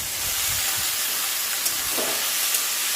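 Chopped potatoes hit hot oil tempered with panch phoron, setting off a loud, close, hissing sizzle that holds steady for a few seconds with faint clatter at the start.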